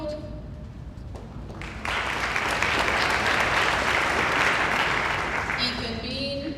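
Sustained audience applause at a high school senior award ceremony, a dense crowd of clapping that swells after a couple of seconds and holds steady, with a voice speaking over it at the start and end.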